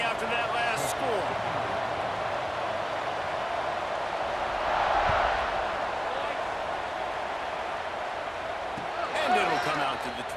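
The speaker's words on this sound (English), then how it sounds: "this crowd is buzzing after that last score" A packed stadium crowd at a college football game between Penn State and Colorado keeps up a continuous, loud, buzzing roar, with distant, reverberant noise swelling and fading across the span.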